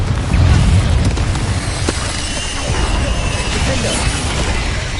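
A Confringo blasting spell explodes in Hogwarts Legacy: a loud, dense boom with a rumbling, crackling tail that holds for several seconds at full force, with no talk.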